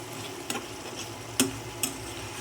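Eggplant pieces are sautéed and stirred into a fish curry gravy in a pan, giving a soft, quiet sizzle broken by a few sharp spoon taps and scrapes, with no talking.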